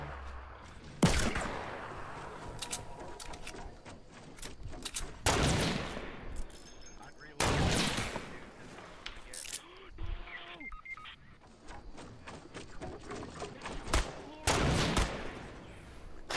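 Gunfire in the video game Fortnite, several sharp bursts of shots spaced a few seconds apart, loud and close, with voices talking between them.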